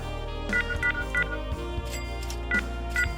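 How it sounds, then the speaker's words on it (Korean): In the video game Lost and Found Simulator, a phone number is dialed with about five short, clear keypad beeps, unevenly spaced over a steady tonal background hum, with no talking. "아 전화해야겠다"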